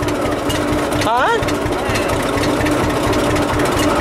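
Tractor engines idle and chug steadily through a slow race between two tractors with no brakes, a low continuous drone that fills the whole stretch with a brief whistling squeal partway through.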